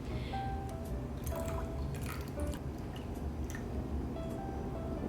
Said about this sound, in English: add our rose water and essential oil to our rice water